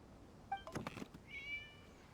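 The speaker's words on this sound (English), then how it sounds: "It was just a cat." A cat meows in the Genshin Impact video game, two short calls followed by a longer, clear meow, close and distinct over a quiet background with no speech.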